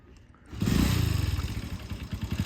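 A Radar motorcycle engine catches after a quiet moment and settles into a close, loud, rhythmic idle with a rapid pulsing thump and some mechanical clatter.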